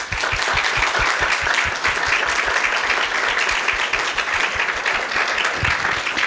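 Audience at an end-of-life care conference applauding a speaker: steady, dense clapping from a crowd, sustained evenly throughout with no voices over it.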